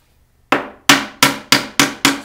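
A hammer taps a nail into a wooden board while a simple bookcase is being built. Six sharp, ringing strikes land in an even rhythm after a brief quiet start, loud and close, with no talk.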